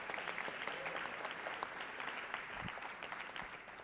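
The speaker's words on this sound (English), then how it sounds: "A round of applause to all of our teams once again for a fantastic evening." A crowd claps steadily and warmly throughout, a dense wash of applause that continues without a break.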